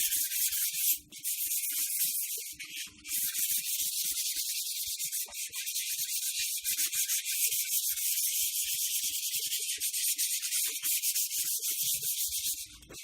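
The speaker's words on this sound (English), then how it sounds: "I'm just going to use the same piece of sandpaper. And just sand it all over again." Sandpaper rubs back and forth over an oiled, rusty lathe surface in a continuous hissing scrape, close and fairly quiet, with brief pauses.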